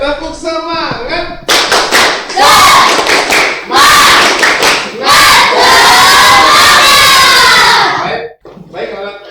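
A classroom of children shouts a rhythmic spirit chant with bursts of clapping, loud and close, and the group voices rise together in energetic cheers.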